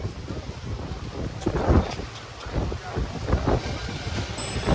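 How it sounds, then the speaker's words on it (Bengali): Wind buffeting the microphone at a jetty ghat in Diamond Harbour, a loud, gusty rumble that surges and dips across the whole moment, with no clear speech. "এদিক থেকে হাওয়া দিচ্ছে"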